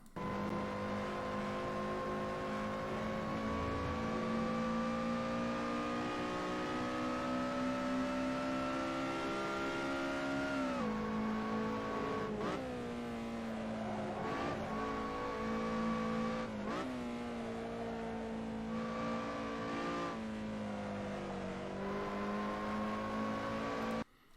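Lotus Elise SC engine in Assetto Corsa at Silverstone, a loud steady drone that climbs through the gears, with several abrupt dips and re-rises as the car lifts and brakes through corners, no talk over it.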